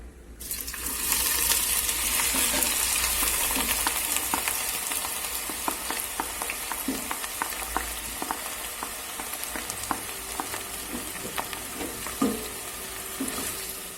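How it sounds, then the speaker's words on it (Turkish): Onions for Kayseri yağlaması sizzle steadily in a hot pan, with scattered crackles and pops and the occasional scrape of stirring. "Arkadaşlar soğanımızı kavuruyoruz"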